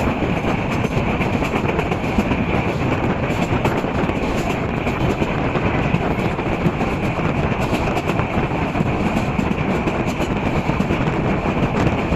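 The Subarna Express, a non-stop Dhaka–Chittagong train, pulls away from Dhaka Airport station with a loud, continuous rumble and rhythmic clickety-clack of wheels on rails, heard from on board with some wind noise.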